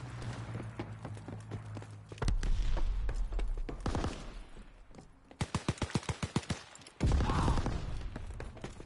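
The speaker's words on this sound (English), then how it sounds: "Enemy strafing run incoming. Get to cover." Enemy strafing-run gunfire rattles in a video game, rapid bursts of shots in fast rhythmic volleys with heavy booming impacts between them, loud and close, no talking.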